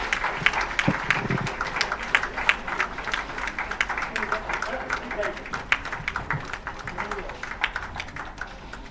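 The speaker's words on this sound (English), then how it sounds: "please have a big round of applause for the launch of the grading" An audience at a school education conference in Guindy gives a round of applause for the launch of a school grading index. The clapping is dense and continuous and rises in brief surges, with some voices underneath.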